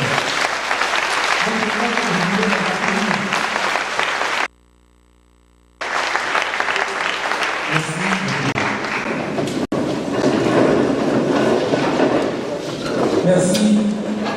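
Audience applause welcoming new students at an institute's back-to-school ceremony, a loud, dense clapping with cheering voices that runs throughout, broken once by a short gap of near silence.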